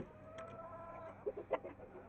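Hens settled inside their coop give a few soft, scattered clucks at a distance, quiet and brief against a faint background murmur.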